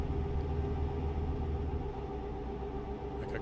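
Low, steady grinding rumble from a truck's wheel in American Truck Simulator, droning continuously at an even loudness with engine hum beneath it and no talking.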